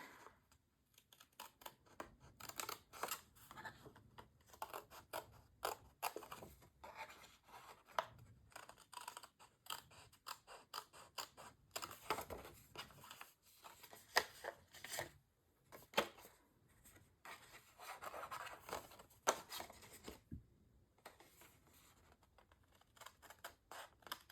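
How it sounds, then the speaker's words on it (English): Scissors snip along the edge of a printed paper image, giving soft intermittent cuts and rustles, close and quiet, with no speech. "So I'm going to take my scissors and just run right along her"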